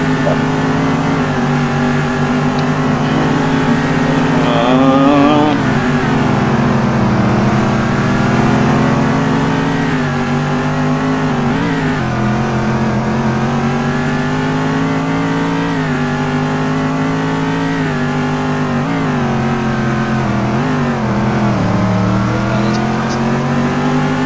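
Race cars accelerating around a circuit in an SLC NW Ohio race, engines droning loudly and continuously with rising and falling pitch as they work through the gears, with some talk over the top.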